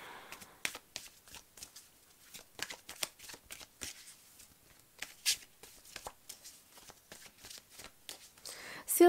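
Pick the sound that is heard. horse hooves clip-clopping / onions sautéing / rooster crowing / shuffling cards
shuffling cards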